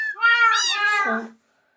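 A single short Minecraft cat meow, clear and close, rising and then falling away into silence.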